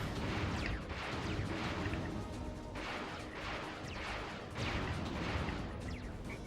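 Missile volleys in a Ratchet & Clank game, a dense roar of launches and crashing impacts in repeated waves about every second or two, loud and continuous with no talking.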